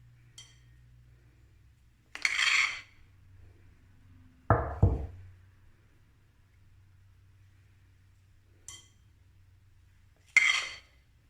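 A spoon clinks against a cake mold while mini-cake batter is spooned in, a few separate bright taps spaced across the moment, with one duller knock in between, quiet and alone with no talk.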